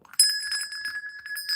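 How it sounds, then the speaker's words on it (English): A notification bell sound effect rings out as a bright, clear chime with sustained high tones that linger briefly, close and alone, with no voices. "it's a little notification bell."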